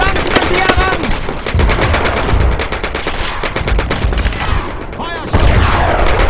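Loud rapid bursts of automatic gunfire rattle continuously, with booming shots and chaotic battle noise close by, in the World War II game Brothers in Arms: Road to Hill 30.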